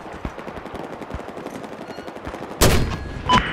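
Machine gun fire in Battlefield 4: a dense rattle of rapid shots runs throughout, then breaks into a loud, sharp burst of heavier fire near the end.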